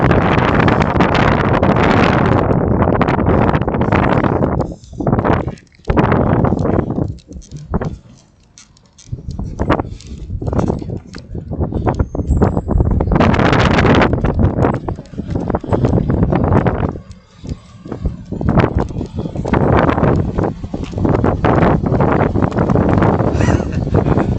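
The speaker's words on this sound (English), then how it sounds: "It's a bit on the windy side" Strong wind buffets a microphone outdoors on a road, producing loud, rumbling gusts that surge and drop repeatedly, with brief calmer gaps between blasts.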